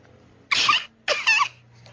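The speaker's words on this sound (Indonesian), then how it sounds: "Batuk cantik." Two short, loud coughs from a person, spaced about half a second apart, each a bright burst standing alone against near silence.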